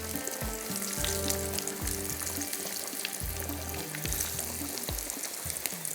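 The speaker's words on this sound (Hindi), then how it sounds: "यहाँ पर जो फ्राई कर रहे हैं आलू और चिकन के कबाब" Potato and chicken kebabs frying in a pan, with a steady close sizzle and crackle of hot oil throughout, over low rhythmic background tones.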